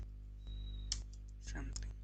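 Several sparse computer keyboard keystrokes and clicks, quiet and close, over a low steady electrical hum.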